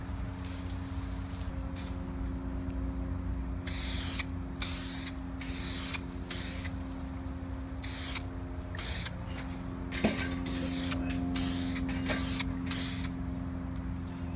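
SprayMax 2K clear coat sprays onto a car headlight in a series of short, sharp aerosol hisses, some brief and some held for a second or so. The bursts are separated by quiet gaps over a faint background hum.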